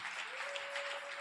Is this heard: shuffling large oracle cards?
no